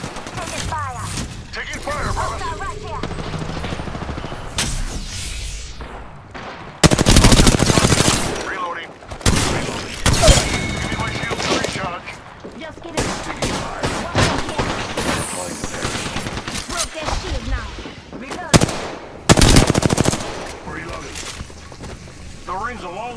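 Automatic and rapid gunfire in the video game Apex Legends, loud overlapping bursts and volleys across the whole stretch with brief gaps, while in-game voices call out over the shooting.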